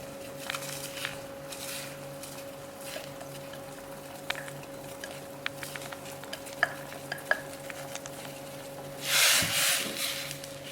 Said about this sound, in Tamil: இப்போ திணையை போட்டுடலாம்.